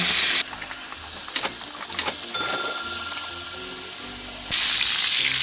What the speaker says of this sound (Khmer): ឥឡូវនេះមន់បំពងដែលខ្ញុំបំពងបងប្អូនចាឥឡូវនេះ ឆ្អិន